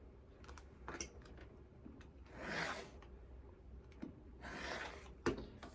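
Sewn quilt fabric strips being trimmed, quiet close handling with light clicks and taps and two longer rasping cuts through the fabric, with no talking.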